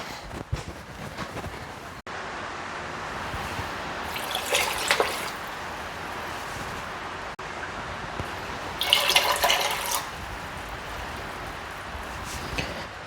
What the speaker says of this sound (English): and then we'll add in the water